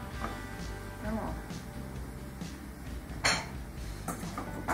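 Metal pans clank and scrape amid steady kitchen background noise as cooked meat is moved to another pan, with a sharp clink near the end and a person talking throughout.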